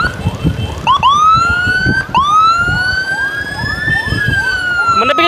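A loud wailing emergency siren rises and falls in long sweeping cycles during an ambulance escort from Muiz hospital toward Abdul Sarani hospital, with road and engine rumble beneath it.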